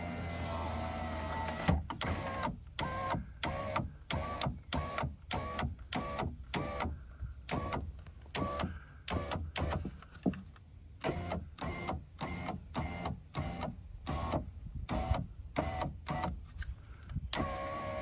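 Power window motor of a 1999 Toyota Avalon lowering the glass on auto down after a motor and regulator replacement, a close whirring drone broken into repeated short bursts by clicks and gaps.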